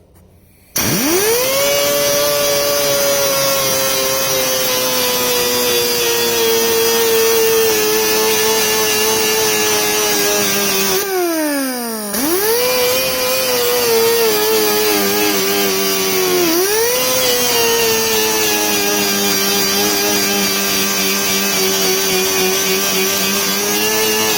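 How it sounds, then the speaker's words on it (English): Angle grinder removing rust from metal, a loud continuous high whine that holds steady, dips briefly as the disc slows, then spins back up and runs on to the end. "I'm gonna try to remove that rust with the grinder"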